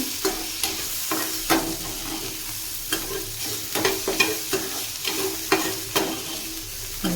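Bitter gourd slices fry in oil in a pan, a steady close sizzle broken by regular clanks and scrapes of stirring, about one every half second to second, with no voices.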